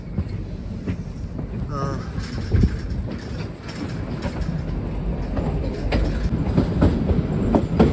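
The Shimla to Kalka toy train on the Himachal Pradesh hill railway running through forest past small stations, a steady rumble with rhythmic wheel clatter and a brief squeal, heard from onboard while a voice talks over it.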